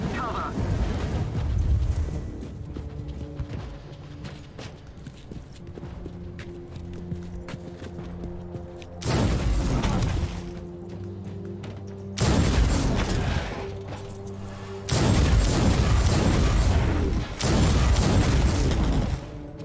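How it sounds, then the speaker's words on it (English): Marauder bombers pounding the area in Warhammer 40K Inquisitor, heavy booming blasts arriving in loud bursts over a constant rumbling game soundscape, with music-like tones underneath. "The Imperial Navy has launched Marauder bombers as a counterattack. They will bomb the entire area."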